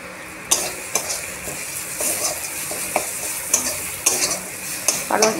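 Spice masala frying and being stirred in a pan while cooking potol chingri, a steady sizzle with repeated scraping and clinking of a spoon against the pan, close and alone.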